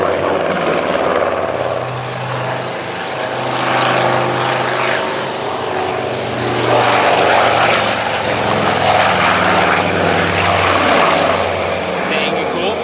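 A Nord 2501 Noratlas twin-engine propeller transport roars past in a flying display, its loud steady engine drone swelling and easing over the whole stretch while a commentator talks over it.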